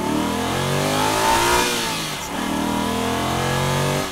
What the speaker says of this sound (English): you hear the beautiful sound that the engine makes